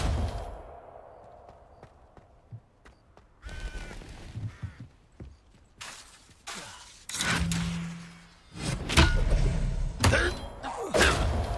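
Spell-casting effects from the Hogwarts Legacy wizard video game, with an Expelliarmus disarming spell among them: sharp whooshing bursts and thudding impacts that come in irregular clusters over a low ambient bed, the loudest hits arriving near the end.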